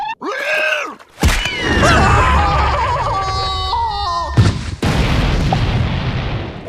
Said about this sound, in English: Sure, there was an explosion.